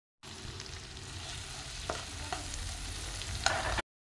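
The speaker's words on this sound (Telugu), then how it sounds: "మొత్తం గిలిగిలి ఇలా ఒక 5 నిమిషాలకు కలుపుతూ ఉండాలి" Chopped onions and green chillies with cumin fry in oil while being stirred, a steady close sizzle with a few soft scrapes and taps of a utensil against the pan.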